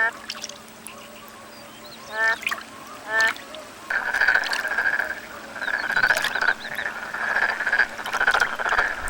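A group of male tree frogs gives mating calls: a few separate rasping croaks at first, then a loud, sustained chorus that fills the rest of the stretch, close by with no talking.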